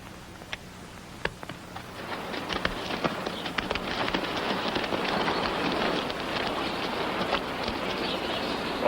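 Rain falling outside a shack in a Western film, a dense, steady patter on surfaces that starts moderate and gradually thickens, with a few sharp isolated drips or knocks early on and no voices.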